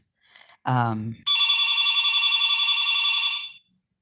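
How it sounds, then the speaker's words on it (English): A telephone rings with a steady, loud electronic bell tone lasting a couple of seconds, after a brief burst of a voice speaking. "My phone is ringing."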